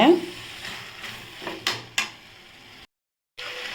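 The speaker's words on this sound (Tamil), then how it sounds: "பாவக்காவை நல்லா வதக்கிக்கோங்க" Bitter gourd sautés in a pan with a soft sizzle. A spatula scrapes and stirs in short strokes, two sharper scrapes stand out, and the sound cuts to brief silence near the end.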